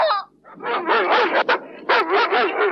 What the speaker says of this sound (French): Lâchez les chiens!